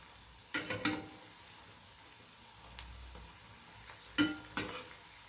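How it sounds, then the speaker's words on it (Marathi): Moth dal fritters (bhaji) frying in oil and being flipped, a faint steady sizzle broken by two pairs of sharp utensil clacks and a single light tap between them, close by. "तर आता आपण पलटी करून घेऊया भजी बघा"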